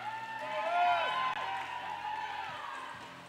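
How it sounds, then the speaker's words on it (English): Crowd at a roller derby bout between the Brawl Saints and Norfolk cheering and clapping in a large indoor venue, a swelling roar that peaks and then holds, with a commentator talking over it. "Big cheer here from the crowd for Savage"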